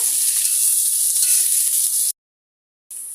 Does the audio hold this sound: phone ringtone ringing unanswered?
no